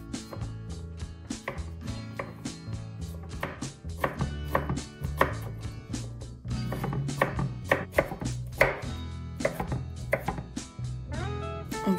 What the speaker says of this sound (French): On va maintenant émincer le quart d'oignon qu'on va cuire avec les nouilles.